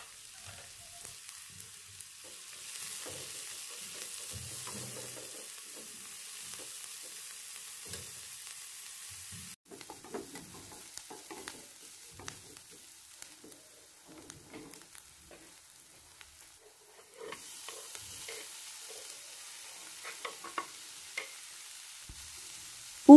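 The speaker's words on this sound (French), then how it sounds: "dans cette poêle, je vais les faire revenir 1 à 2 minutes sur feu moyen en ajoutant bien sûr un peu d'huile végétale" Food frying in a pan with vegetable oil over medium heat, a steady soft sizzle with occasional crackles and stirring scrapes, close and continuous with no talk.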